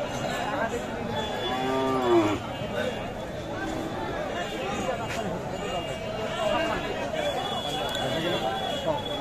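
Cows low at a crowded cattle market, one clear moo rising and falling near the start amid steady crowd chatter and livestock noise, with people talking nearby throughout.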